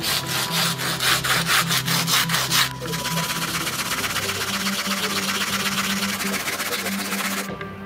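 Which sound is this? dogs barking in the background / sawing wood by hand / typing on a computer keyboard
sawing wood by hand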